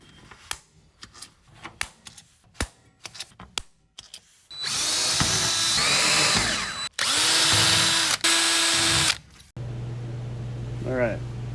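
A power drill boring holes to mount a bench vise on a receiver hitch, first a string of sharp clicks and taps, then several loud sustained bursts of drilling close by, each stopping abruptly.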